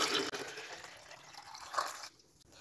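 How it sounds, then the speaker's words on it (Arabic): Water poured into a second container while mixing a plant-rooting solution, a soft continuous trickle and splash that swells briefly near the end before cutting off, fairly faint and close. "انا مليت ميه للاولانيه وبملى للثانيه"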